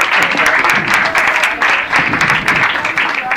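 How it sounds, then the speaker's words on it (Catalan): An audience applauds at a Catalan book-week award ceremony, with dense, sustained clapping that swells and dips over a few seconds and comes across strongly and close. "Aplaudeix."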